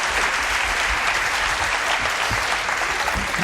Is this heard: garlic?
no